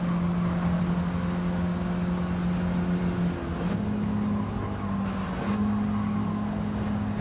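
A car in a racing video game drives continuously, its engine drone holding steady, then shifting in pitch as it changes gear or revs, loud and close throughout with no talk.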